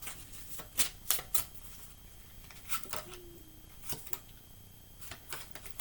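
Tarot cards are drawn and shuffled nearby, with crisp flicking and riffling bursts and soft slides spaced irregularly across a quiet room.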